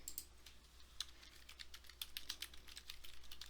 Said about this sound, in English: So if I pause the video, that's because I'm typing.